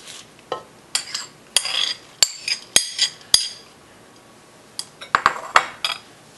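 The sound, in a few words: mixing spinach, quinoa and sauce in a dish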